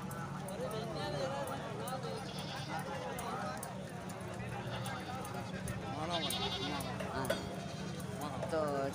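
Goats bleating in a busy livestock market at Taxila's bakra mandi, with repeated animal calls mixed among a steady crowd murmur and people talking nearby.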